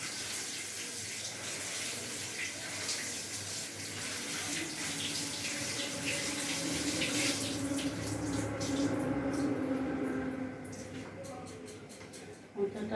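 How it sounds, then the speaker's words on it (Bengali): Water from a tap runs steadily as banana flower is rinsed in a kitchen, gushing strongly, then thinning toward the end with a few splashes. "জল দিয়ে আমি একটু মোচাটাকে ধুয়ে নিই।"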